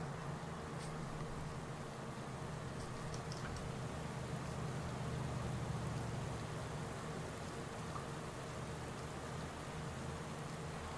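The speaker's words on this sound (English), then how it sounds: "And it is starting to rain." Rain falling during a Basque Country cycling race in Pro Cycling Manager 2018, an even, unbroken hiss with occasional soft tapping drops, steady and moderately quiet throughout.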